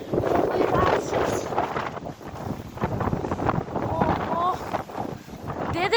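Strong wind gusts outdoors and buffets the microphone in loud, uneven rumbling bursts throughout, with faint voices now and then beneath the roar.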